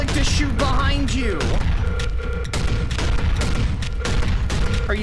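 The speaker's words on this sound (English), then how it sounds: "you hold right click to shoot behind you" Rapid gunfire blasts away in the Hellscreen video game demo, dense loud shots and booms packed back to back with mechanical clanks, while someone talks over the action.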